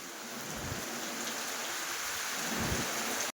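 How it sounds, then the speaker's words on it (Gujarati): Heavy rain pours down in a dense, steady hiss with occasional low rumbles beneath it. "ધોધમાર વરસાદ ચાલુ થઈ ગયો છે."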